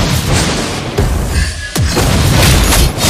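Booming explosions from the video game Mobile Legends: Bang Bang, several loud deep blasts in quick succession with sharp onsets and rumbling decay, dense game effects filling the gaps.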